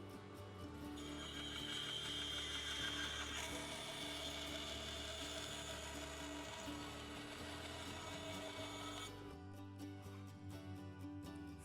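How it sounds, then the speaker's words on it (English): A bandsaw fitted with a miter gauge trims the top and bottom of a wooden pencil holder, a steady loud mechanical whir with a rattling, ratchet-like edge that runs throughout, then thins out as the cut finishes near the end. "I took it over to the bandsaw with a miter gauge"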